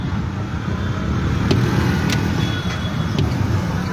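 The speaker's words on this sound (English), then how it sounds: "I'm alone in my car." A car engine idles steadily while stopped at a red light, heard from inside the cabin as a loud, constant low rumble with faint traffic noise around it.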